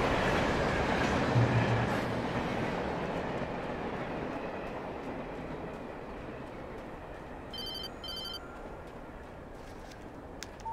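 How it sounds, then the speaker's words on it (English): A train rolls past in the survival horror video game Alan Wake, a steady broadband rumble of rail wagons that slowly fades, with a brief electronic chirping near the end and no talk. "Gotta get a ride on that train!"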